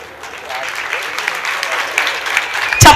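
An audience claps steadily for about three seconds, a dense wash of applause that swells slightly toward the end and ends on a sharp burst.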